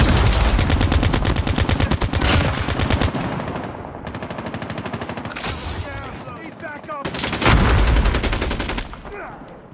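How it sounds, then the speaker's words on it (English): Close, loud automatic gunfire in a Call of Duty Mobile team deathmatch, long rapid bursts repeating with short gaps between, while a voice calls out over the shooting. "I got shot!"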